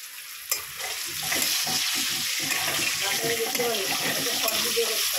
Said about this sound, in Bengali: আর এখানে আমি আলু ভাজছি